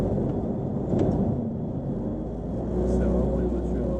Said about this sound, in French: Le bruit est superbe. Un super bruit de V6.